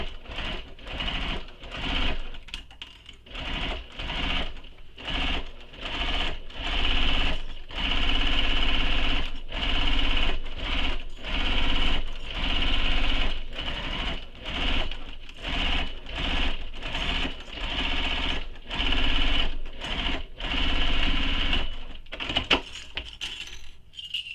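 Sewing machine running a long basting stitch along a bowler bag seam, its steady mechanical whir broken by frequent short pauses and restarts, close and fairly loud, with no talking.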